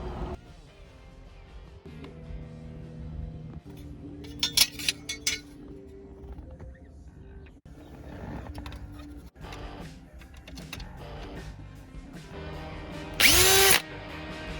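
Power drill boring holes with an eighth-inch bit through metal climate-control brackets from a C5 Corvette dash, heard in several short bursts. A sharp, loud high-pitched whine near the end stands alone above the workshop background.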